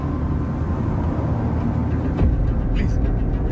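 A car drives along at a steady pace with a continuous broad engine and road rumble, fairly loud and close throughout, with a faint brief thud near the middle.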